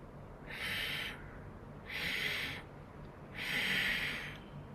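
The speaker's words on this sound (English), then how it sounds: "Ujjayi, inhale." Ujjayi yoga breathing, three slow, audible throat-constricted inhales with an ocean-like hissing texture, evenly spaced and close, each lasting about a second with quiet pauses between.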